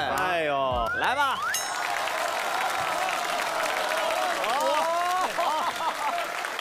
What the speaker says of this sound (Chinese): 非常感谢大伙热情的掌声啊